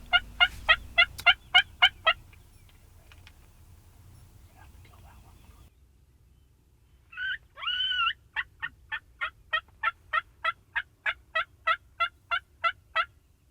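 Wild turkey longbeards gobbling in a pasture, sharp rapid gobble bursts in a quick series at the start, a pause with faint whispering voices, then a louder gobble followed by a long run of rhythmic calls.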